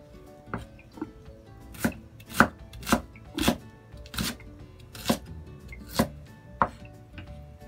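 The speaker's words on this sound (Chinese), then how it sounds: "腊肠将佢切粒啦" Knife chopping Chinese sausage into small dice on a cutting board, a steady series of about a dozen crisp, close thuds spaced roughly half a second apart, with no talking.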